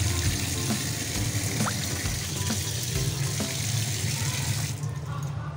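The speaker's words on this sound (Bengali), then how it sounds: "এবার মাছটাকে ধুয়ে নিব ভালো করে।" Fish being washed under a running kitchen tap after scaling: a steady, loud rush of water with small splashes and clinks as it is handled, stopping just before the end.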